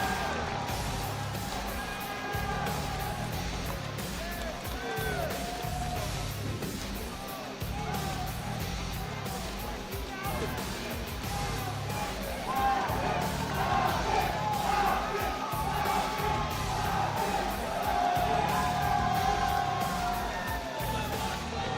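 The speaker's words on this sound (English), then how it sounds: "The crowd begin to cheer for the Falcons" A large arena crowd cheers at an Apex Legends esports grand final in New Orleans, a steady, broad roar of yells and whoops that swells slightly toward the end.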